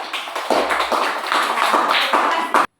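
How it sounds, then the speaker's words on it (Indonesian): An audience gives a round of applause during an Indonesian teacher-training session. The dense, steady clapping bursts in after a brief pause and continues for about two seconds before stopping abruptly. "Kita beri aplaus untuk teman kita Akbar."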